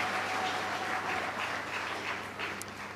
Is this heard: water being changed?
no